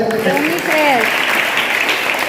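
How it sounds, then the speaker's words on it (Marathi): Audience clapping at a school event celebrating Children's Day and the birth anniversary of Sindhutai Sapkal, loud and steady for about two seconds, with a brief voice heard at the start. "एकदा सगळ्यांनी टाळ्या वाजवा"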